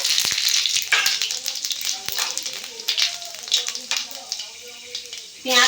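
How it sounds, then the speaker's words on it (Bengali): Panch phoron spices crackle and sizzle in hot mustard-type oil left from frying pabda fish, a steady frying hiss with scattered pops and stirring clinks, close and continuous. "এই মাছ ভাজার তেলে দেব আমি হাফ চামচ পাঁচ ফোড়ন"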